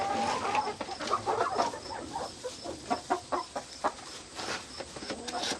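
Backyard hens peck at grub treats from a feeder, giving off a run of soft, close, rhythmic clucks and murmurs with occasional higher calls over quiet ground noise.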